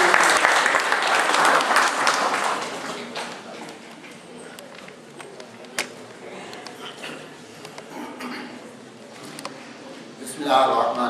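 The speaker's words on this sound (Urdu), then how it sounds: "ہم زوردار تالیوں سے آپ کا استقبال کرتے ہیں۔" Loud applause from a crowd at a book release ceremony fills the first few seconds, then fades into scattered claps and room noise before a brief swell near the end.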